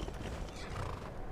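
A horse in the video game Skyrim gives a short snort or whinny with soft hoof clops, fairly quiet and brief.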